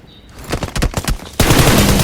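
Gunfire in a BGMI fight: a rapid burst of close shots, then a sudden continuous loud roar of sustained firing.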